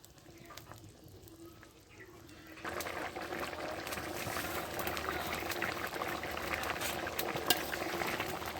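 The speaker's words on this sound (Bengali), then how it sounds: "ভেজে রাখা ডিমগুলো দেওয়ার পরে আমি তিন মিনিট ফুটিয়ে নেব" Egg curry with fried eggs simmering in a pot, a steady bubbling boil that thickens and grows louder partway through, close and continuous with faint stirring and no talk.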